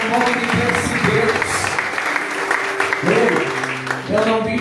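Church congregation applauding during an evangelical sermon, a wash of clapping and crowd noise beneath a preacher's raised voice that keeps talking over it.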